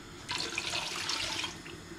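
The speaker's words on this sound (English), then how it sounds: "I'm just gonna go in with another can of water" A can of water is poured into a thick Sindhi tomato curry (kadhi) in a pot, making a faint, brief splashing gush that lasts about a second.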